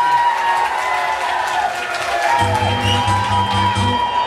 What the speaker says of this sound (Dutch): geef ze maar een heel groot applaus